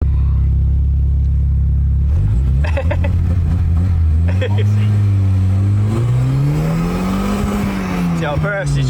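A Volvo fitted with a standalone ECU revs loudly at close range, its engine note rising and falling through the clip, with voices talking over it.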